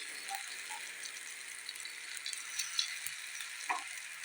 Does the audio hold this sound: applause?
no